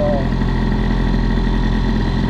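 A Gilardoni Booster 50 scooter engine with a BOOST cylinder head runs loud and steady at high revs, a constant buzzing drone throughout with no voices.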